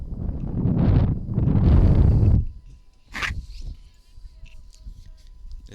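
Strong wind on a sunny day at a softball field buffets the microphone in two long roaring gusts, then calms to a lighter whoosh with a short sharp rustle.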